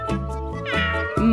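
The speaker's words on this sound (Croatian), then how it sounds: "Mačka." A cat meows close and loud, several drawn-out tonal calls running together in quick succession.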